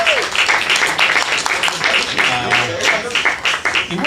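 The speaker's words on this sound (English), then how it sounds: "Clap it up for him." Applause from an open mic audience in a small gallery venue: a dense patter of many hands clapping for several seconds, close and lively, with voices calling out over it.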